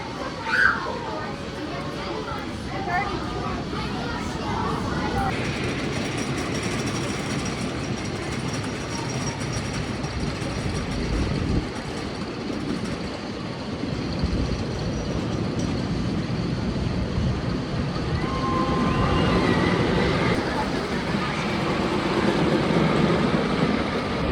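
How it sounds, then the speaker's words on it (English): Predator, a wooden roller coaster with GCI track at Six Flags Darien Lake, rumbles and clatters along its rails in a broad, continuous roar that swells toward the end, with riders' voices mixed in. "the first ride of the day is going to be Predator, the park's wooden roller coaster with GCI track"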